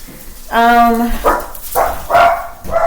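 A dog barks in the background, giving a drawn-out howling bark followed by several shorter barks, close and loud, while a person talks in the same room.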